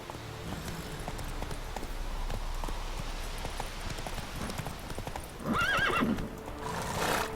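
Horse galloping in Witcher 3, steady hoofbeat clip-clop running under ambient game sound, then a loud whinnying neigh near the end.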